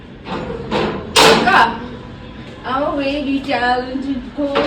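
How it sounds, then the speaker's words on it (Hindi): A door at home is pulled shut with a single loud, close thud, followed by people talking nearby. "दरवाजा बंद करके"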